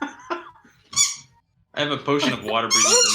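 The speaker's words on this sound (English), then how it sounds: "no, that's squeaking a toy." A dog squeaks a squeaky toy in short high-pitched bursts, which mix with and continue under a voice.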